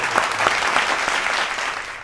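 An audience at a televised Hindi poetry gathering celebrating Independence claps steadily, a dense, loud wash of applause with no talk over it.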